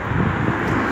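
Strong, cold spring wind during snowfall roars steadily, a dense, continuous rush buffeting the microphone with no voices.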